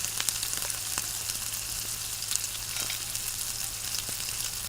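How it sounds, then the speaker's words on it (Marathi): Whole tea masala spices such as cardamom dry-roasting in a pan over a low flame, giving a faint continuous crackle with occasional light clicks and rattles, near and quiet, no speech. "त्याच्यामध्ये घालून मंद आचेवर 2 मिनिटं भाजून घ्यायचे आहेत आपल्याला"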